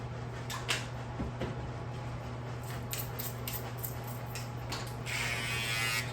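A barber's electric shaver buzzes close behind a client's ear, a steady low hum with scraping strokes and a brighter rise near the end.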